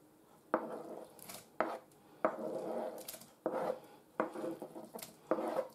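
Grated zucchini tipped into a mixing bowl for zucchini fritters, heard as six sharp close thumps and scrapes spaced about a second apart, each with a short rustling tail, with no voices.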